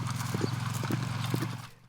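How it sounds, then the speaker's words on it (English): Horses are driven in at dawn from overnight pasture on a cattle ranch, hooves clip-clopping in a quick, rhythmic patter over a low rumble, close and fairly loud before tapering off at the end. "to drive the horses in from their overnight pasture"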